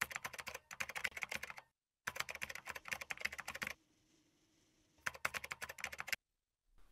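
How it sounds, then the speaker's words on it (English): Rapid keystrokes clatter on a computer keyboard during Linux terminal work, in three close bursts separated by short silences, with a quiet gap in the middle. "Now tapping on the enter button to continue."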